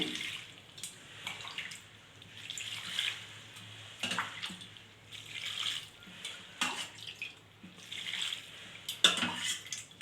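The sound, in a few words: water being poured into a pressure cooker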